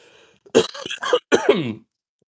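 A few harsh, throaty coughs in quick succession, close and fairly loud, with silence before and after.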